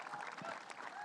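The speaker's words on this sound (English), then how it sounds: "round of applause for Vince." A short burst of applause from an arena crowd honouring Vince Carter, with clapping and some voices mixed in.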